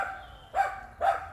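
A dog gives two short, sharp barks a moment apart, chasing a squirrel outdoors in a garden, moderately close against a quiet background.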